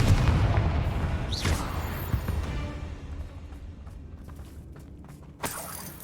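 A Confringo fire spell blasts off in the Hogwarts Legacy game, a booming impact with mechanical clatter and a rumbling tail, followed by a fainter second burst near the end.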